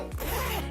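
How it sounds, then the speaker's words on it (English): Zipper on a small Manhattan Portage pouch pulled once in a quick, close rasping zip lasting under a second. "this is a little pouch with a zipper, which means you can put stuff in there"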